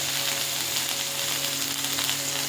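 Onion paste frying in hot oil with black cumin seeds in the pan gives a loud, continuous, even sizzle up close, with a faint steady hum beneath.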